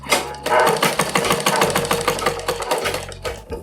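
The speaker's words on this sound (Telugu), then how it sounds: "దీని చివరన కూడా ఒక స్టిచ్ వేసుకోవాలి" A sewing machine stitches a fall onto a saree with a fast, loud mechanical chatter of rapid needle strokes. It starts up, runs in short bursts with brief pauses and stays close and clear, with no talking.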